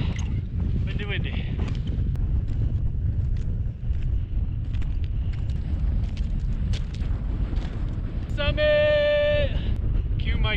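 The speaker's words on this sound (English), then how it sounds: "Windy, windy, windy." Strong wind on the summit of Horseshoe Mountain, Colorado, buffets the microphone in a steady, heavy rumble, with brief gusty bursts and a short tonal whine near the end.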